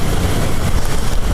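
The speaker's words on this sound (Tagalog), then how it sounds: "lumakas naman yung hangin" Strong wind buffeting a microphone while a motorcycle is ridden in the rain, a loud, continuous low roar with no voices.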